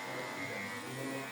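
Electric hair clipper running in a barber salon, a steady close buzzing hum that continues without a break for just over a second.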